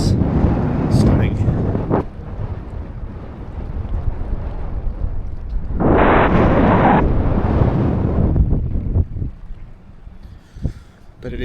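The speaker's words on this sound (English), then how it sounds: "it is very windy and cold, and the bridge is actually shaking in the wind" Strong wind buffets the microphone beside a swaying suspension bridge in Japan on a cold day, a loud continuous rumbling roar with gusty surges throughout, briefly intensifying in the middle.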